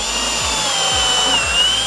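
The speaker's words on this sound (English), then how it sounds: "And then you pre-drill the holes so that you're not splitting the lumber when you're actually setting the lag." A power drill bores pilot holes in deck lumber with a steady high motor whine, close and loud, accompanied by low periodic thumps.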